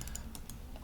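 Quick bursts of keystrokes on a computer keyboard as a price level is entered, several soft, close clicks in an uneven rhythm, quiet and without speech.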